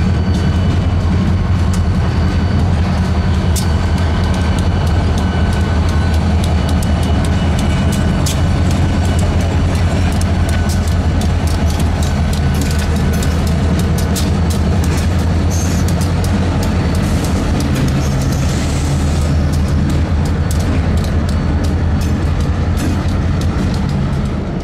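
A freight train led by a GP38-2 locomotive rolls past with hoppers, boxcars and center beam cars, a loud, close, continuous rumble with steady wheel clatter and a low engine drone throughout.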